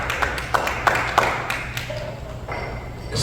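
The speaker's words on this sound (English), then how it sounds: "clap it up for the parents" An audience at a comedy club claps for the parents in the crowd, a few scattered sharp claps that thin out, with murmuring and a voice beneath.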